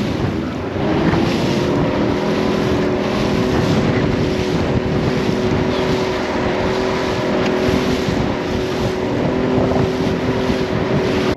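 A motorboat runs steadily across the water while out on a mangrove fishing trip, its engine a loud, continuous drone with wind buffeting the microphone throughout and no talking.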